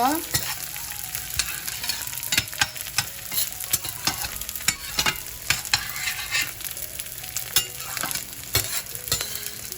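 Jaggery frying in hot ghee in a pan, a steady close sizzle broken by sharp clicks and scrapes of stirring, with no voices.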